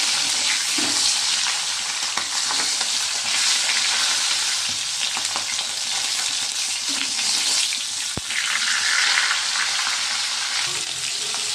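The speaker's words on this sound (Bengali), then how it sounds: "মাছগুলো আমি একে একে ভেজে নিচ্ছি। এরপর আমি দিয়েছি কাতলা মাছ।" Loud, continuous sizzling of katla fish pieces frying in hot oil in a kadai, a dense crackling hiss with occasional spits, close by and without talk.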